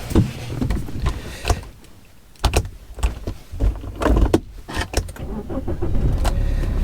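A high-mileage BMW 320d M Sport diesel cranks and settles into a steady idle, preceded by several sharp door and seat clunks from inside the car, with the engine hum rising and holding near and loud toward the end.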